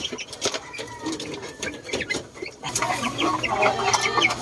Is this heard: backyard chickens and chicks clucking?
yes